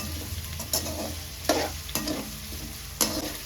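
Onions sauté in a pan for a Tamil crab masala gravy. A soft, continuous sizzle runs underneath as a spoon scrapes and stirs through them in a few distinct strokes.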